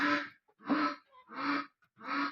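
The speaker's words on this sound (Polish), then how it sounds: "kaczka się drze" A farm duck squawks four times in quick succession, loud, harsh and close, each call separated by a short pause with no talk.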